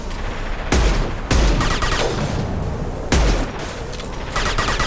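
Rifle gunfire in the Mass Effect 2 video game: several loud, close bursts of rapid shots cut in and out, each volley sharp with a booming low-end thump, separated by brief, noisy gaps.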